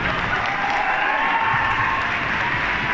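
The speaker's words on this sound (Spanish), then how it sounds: "Muy bien, un aplauso para ella." An audience claps for a female cosplayer on stage at an anime fan convention, dense sustained applause with faint cheering mixed in, steady and fairly loud from start to end.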